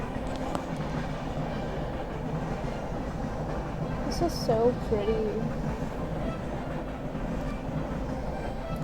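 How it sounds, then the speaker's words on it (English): A train passes near an outdoor garden path, a steady rumbling rail noise running through the whole scene with a brief squeal partway, while a person speaks softly over it. "Sorry about the train if you can hear it"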